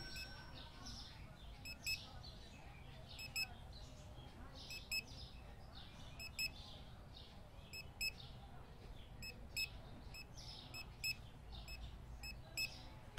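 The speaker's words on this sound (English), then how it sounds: "Sweet sound of beeps" Checkout scanner beeps in the Supermarket Simulator video game: short, high electronic bleeps repeat at a steady rhythm, single or in quick pairs, over a constant low background hum.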